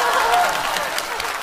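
Audience applause during a live comedy sketch, a steady wash of clapping from a theater crowd, even and sustained across the moment.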